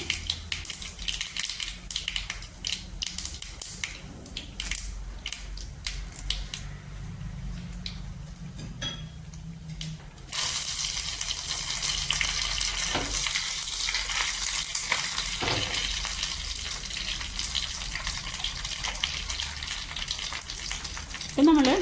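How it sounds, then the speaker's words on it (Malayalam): Mustard seeds, dried red chillies and curry leaves tempering in hot coconut oil, a quieter crackle for the first half, then a louder continuous sizzle and spattering that carries to the end, no voices. "അതിലേക്ക് കടുകും ഉണക്കമുളകും കറിവേപ്പിലിട്ട് താളിച്ചെടുക്കുകയാണ്"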